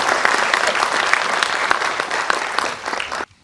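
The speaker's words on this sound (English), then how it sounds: "A big round of applause for." An audience claps at a CSR summit on corporates supporting startups, a dense, even burst of applause that holds steady for about three seconds before stopping abruptly.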